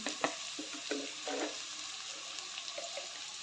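Onion and tomato with salt cooking in a pan for a bitter gourd dish, a quiet continuous sizzle with a few soft stirring scrapes and clicks.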